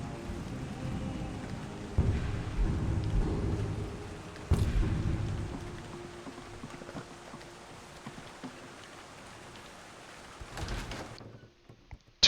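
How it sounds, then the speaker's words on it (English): In the video game Skyrim, rain falls steadily outdoors with a few low thunder-like rumbles and thuds. It tapers off near the end and then cuts out abruptly, with no voices. "it sounds like it's still raining out there."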